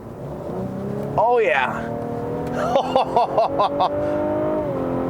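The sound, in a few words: Cadillac CT6 3.0 twin-turbo engine revving while cornering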